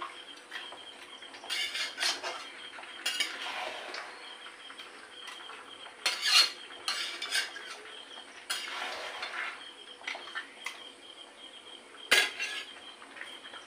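Mutton curry with potatoes being stirred and sautéed in a pan, with repeated metal spoon scrapes and clinks against the pan in irregular bursts, fairly quiet, with faint insect chirps behind.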